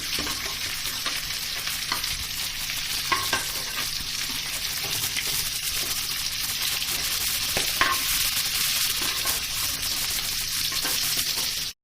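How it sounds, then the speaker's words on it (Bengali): Fried chicken pieces being lifted out of a pan of hot oil: a constant close sizzle carries on throughout, broken by a few soft clinks and scrapes, with no speech. "সেই মশলার পাত্রেই আমি মাংসগুলোকে তুলছি।"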